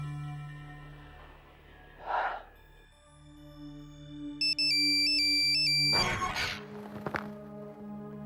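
A phone ringtone plays a repeating electronic melody of short, bright beeping tones in an indoor household scene, joined by a sharp gasp and shuffling movement.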